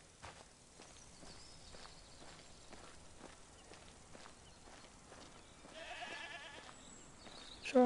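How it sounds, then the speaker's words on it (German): Footsteps crunch in a steady rhythm through the mountain village of the video game Mundaun on PS5, then a sheep gives a brief, faint bleat near the end. "Schafe."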